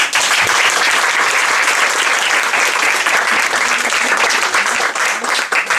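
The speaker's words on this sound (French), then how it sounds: "Et voilà, applaudissez fort" Loud, dense applause from a comedy-club crowd welcoming a new stand-up comedian, a steady wash of many hands clapping for the whole stretch without letup.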